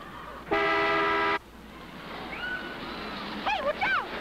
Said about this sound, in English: the horn honked like 30 seconds ago